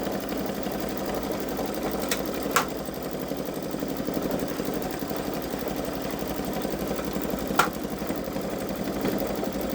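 A Baby Lock Solaris 3 embroidery machine stitches a design with a steady, continuous mechanical whir and rapid needle rhythm, with a few sharp clicks scattered through.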